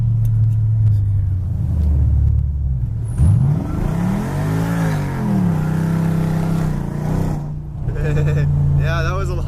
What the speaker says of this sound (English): that was a lot of wheel spin